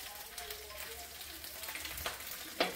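Onions fry softly in a little oil with roasted ginger garlic paste, a faint continuous sizzle with occasional stirring scrapes.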